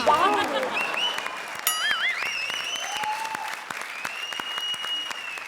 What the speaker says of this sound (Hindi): जरा जोरदार तालियां मीनाक्षी।